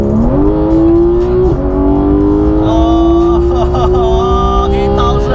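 A Porsche 911 GT3 at full throttle on the Sepang circuit, its engine note climbing steadily to a high-pitched scream, loud and close inside the cabin, with a brief dip around a shift and faint voices beneath.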